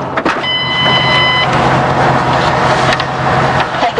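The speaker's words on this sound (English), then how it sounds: "Sounds like a main guy is getting in our girl's car." A man climbs into a car, with a thump of the door, rustling movement and a brief electronic chime, heard close up over a steady vehicle hum.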